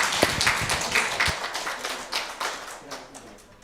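A church congregation at a Sunday worship service claps in scattered bursts that thin out over a few seconds, with voices talking over the clapping.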